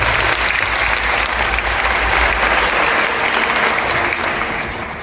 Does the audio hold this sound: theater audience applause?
yes